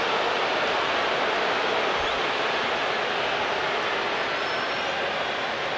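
Stadium crowd jeering a batter named Watkins at a Yankees game against the Orioles, a broad, steady wash of massed crowd noise with no distinct voices standing out.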